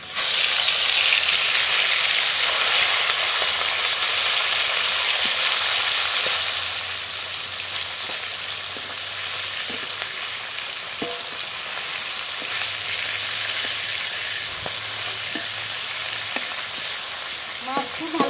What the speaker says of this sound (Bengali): ভোলা মাছ ভেজে নেব আগে।